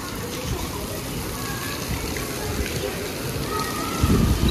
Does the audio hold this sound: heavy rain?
yes